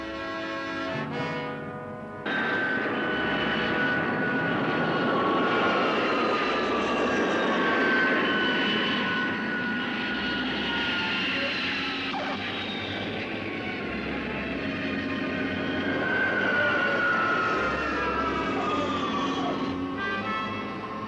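A fixed-wing airliner coming in to land with its flaps extended, engines droning in a loud, steady roar that swells and fades slightly, heard from inside the aircraft with no talking.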